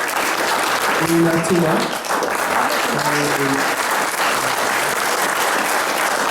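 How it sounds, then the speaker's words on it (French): Audience applause at a piano night concert, a dense clapping wash sustained throughout while a few voices talk and call out over it. "on peut applaudir aussi"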